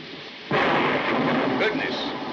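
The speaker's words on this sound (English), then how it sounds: "I love thunderstorms, don't you?" A sudden loud, rumbling thunderclap bursts in over quiet background in a 1948 film storm scene and rolls on steadily for about two seconds.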